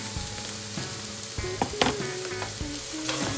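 Seafood fried rice with fermented fish being stir-fried in a pan, a continuous loud sizzle broken by repeated scraping and clanking of a spatula against the pan, no voices.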